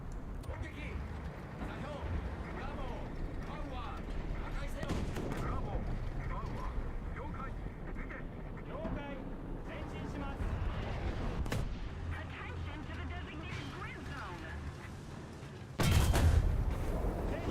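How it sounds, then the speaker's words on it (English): Artillery strike explosions landing around a player in War Thunder, heavy booming blasts rumbling through dense battle noise, with a louder close impact near the end, while someone talks over the action. "somebody's dropping an artillery strike on me right here"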